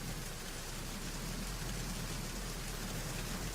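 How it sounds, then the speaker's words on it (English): Steady, heavy rain in the video game Metal Gear Solid 2 pours continuously, a dense even hiss of drops hitting surfaces with no pauses and no voices. "Because I can hear the rain."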